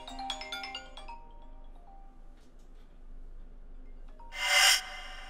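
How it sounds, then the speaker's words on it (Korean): A short electronic ringtone melody, a Pororo children's show song, chimes at the start and fades, followed by a quiet pause and a brief burst of rustling noise. "루피야, 너가 전화 건 거야?"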